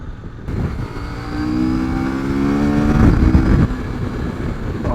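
A 2022 CF Moto 800MT motorcycle engine pulls hard under acceleration, its rising harmonic drone climbing steadily and loud, close-up and continuous with wind rush around it.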